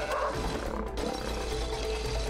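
A lion roars in the co-op video game It Takes Two, a sustained growling roar over a constant low game background.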